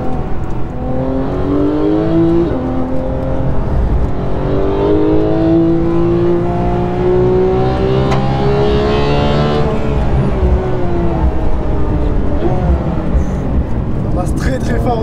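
A GT3 race car engine climbs through the revs on a track, the pitch rising steadily through gears before easing off, loud and close from inside the car, with a voice briefly heard.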